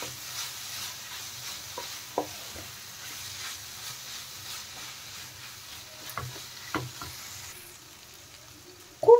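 Grated paneer is stirred into fried spice masala in a pan, with a soft continuous sizzle under scattered scraping taps of a spoon and a sharper clatter at the end.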